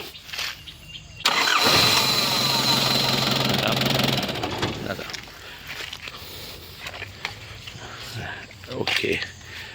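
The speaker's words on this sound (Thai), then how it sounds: "มาดูสการสตาร์ทกันนะครับ" A 1996 Nissan Big-M pickup truck cranks and fires up, then settles into a rough, loud idle with knocking. Someone talks over the running engine.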